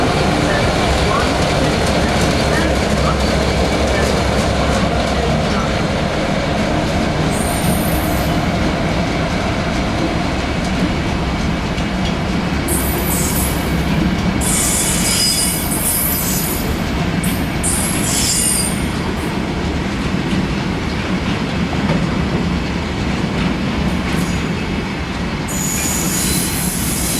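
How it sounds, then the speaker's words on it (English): A train at a Doncaster station platform, with loud continuous rumbling and wheel squeal mixed with station noise, plus brief high screeches at intervals. "Platform 1 for the 1257 LNER Azuma, service to London King's Cross."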